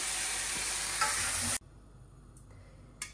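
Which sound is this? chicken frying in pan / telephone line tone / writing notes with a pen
chicken frying in pan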